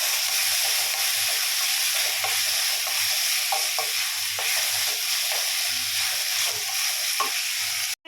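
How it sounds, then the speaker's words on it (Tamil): Steady sizzling and frying of tomatoes and onions in a pan for drumstick-leaf sambar, a constant hiss with occasional stirring clinks, no voices over it. "தக்காளி வெங்காயம் நல்லா வதங்கி வரட்டும்"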